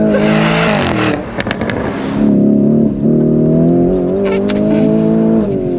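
A Lamborghini Urus Performante SUV engine accelerates with a loud, sustained, rising drone heard from inside the car, with a brief dip and then a steady pull.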